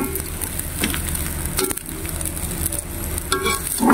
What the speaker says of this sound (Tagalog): Yan, guys, haluin na natin